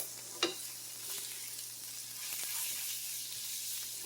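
Flour cooking in a hot pan for bangers and mash gravy, a soft, steady sizzle with a brief clack of a utensil near the start and faint stirring scrapes, quiet and close with no talking.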